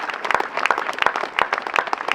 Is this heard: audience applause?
yes